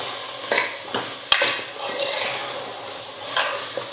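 Potatoes and peas for a kurma being sautéed in a pan, with soft continuous sizzling and a few scraping stirs and one sharp utensil knock against the pot, close and fairly quiet.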